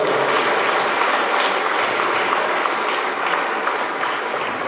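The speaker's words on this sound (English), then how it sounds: "I just want an early round of applause for everybody that made this possible" An audience at a college athletic hall of fame ceremony gives a sustained round of applause, a steady wash of many hands clapping without pause.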